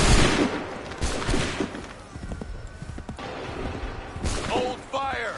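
Musket volley fire in Assassin's Creed 3, a ragged burst of many overlapping gunshots at the start, then scattered cracks and clatter under shouted commands, with voices calling out again near the end.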